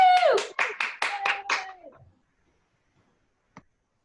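A few quick hand claps from a virtual student songwriters' showcase, mixed with a high whooping cheer, lasting about two seconds before falling silent apart from a couple of faint taps.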